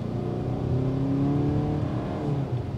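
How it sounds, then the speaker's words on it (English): A 2022 Hyundai Tucson engine in sport mode with 178 horsepower and 187 pound-feet of torque, revving steadily as a loud, continuous, rising and falling drone heard close up, with no voices over it. "Engine note, it's not necessarily undesirable either."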